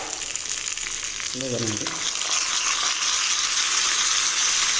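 Hot tempering (popu) sizzles steadily as it is stirred into a coconut and yogurt chutney, a broad close frying hiss throughout, with a short voice speaking briefly near the start.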